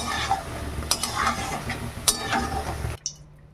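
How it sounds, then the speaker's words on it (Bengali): Cardamom, cloves and cinnamon fry in oil in a pan, giving a soft steady sizzle with a few clinks of a spatula against metal, before the sizzle suddenly cuts out. "তিনটে এলাচ মুখ ফাটিয়ে নিয়েছি তিনটে লবঙ্গ ছোট ছোট দুটো দারচিনি দিয়ে দিলাম একটু ভেজে নেব"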